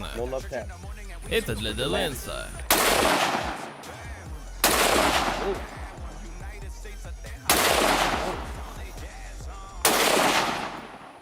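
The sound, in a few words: Steyr AUG rifle firing shots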